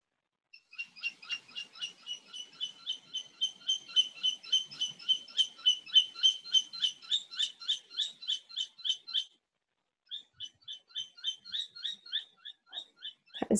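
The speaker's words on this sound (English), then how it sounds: "That is the funniest bird." A bird giving a long run of rapid, evenly pulsed high chirps, close and clear, with a short pause before the call resumes, and no talking.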